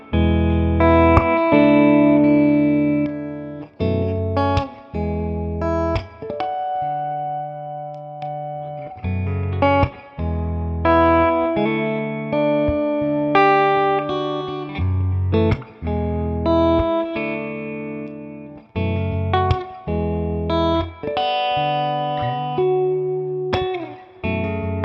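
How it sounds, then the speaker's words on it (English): A PRS Private Stock electric guitar with a clean tone plays a repeating riff across different pickup selections, with short pauses between phrases, bright ringing notes trailing off with a touch of spring reverb. "I'm just going to play the exact same riff and just flip between the pickup selections"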